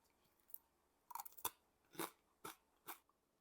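Crisp, crunchy chewing of dried pollack, with several distinct bites spaced about half a second apart, close and clear with no talking.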